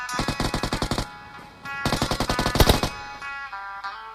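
Rapid automatic gunfire in the battle royale game PUBG comes in two loud close bursts of evenly spaced shots, followed by a few scattered single cracks and faint trailing noise.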